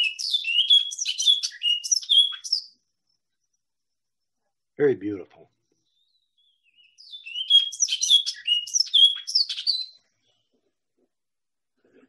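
A first-year male orchard oriole sings bright, rapid, whistled warbling phrases in two bursts separated by a pause, clear and fairly close; a person briefly speaks between the song bursts.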